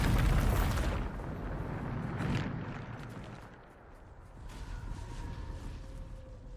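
A Bombarda blasting spell from Hogwarts Legacy goes off with a loud, deep boom that rumbles and fades into low debris and ambient noise, a fainter tonal sting lingering near the end.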